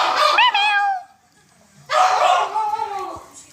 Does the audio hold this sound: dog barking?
yes